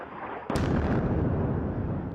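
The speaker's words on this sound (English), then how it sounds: "The heart of Beirut, battered by airstrikes." A loud, sudden blast from an airstrike in Beirut, followed by a long rumbling roar that slowly fades with no voices.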